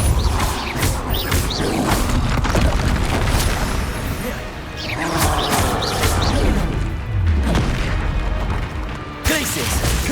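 Blasting spell impacts and crashing magical bursts from Hogwarts Legacy, loud and frequent over a busy mix of combat noise, with sharp smashing hits layered across the whole stretch.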